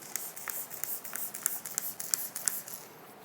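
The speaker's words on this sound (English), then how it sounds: "And then sometimes you actually want to go with the spray. You know, give it a nice spray." A handheld trigger sprayer mists Gyeon car wash product onto a BMW G80 M3 during a wash, giving a series of short, hissing bursts in an irregular rhythm, close and fairly quiet.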